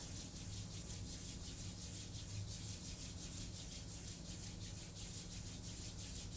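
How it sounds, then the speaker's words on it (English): Two hands rubbing briskly together to build warmth through friction, a steady, continuous soft swishing close by with a faint rhythmic pulse, alone without any talk. "Take your hands and rub them together. Make them warm with friction rubbing them together."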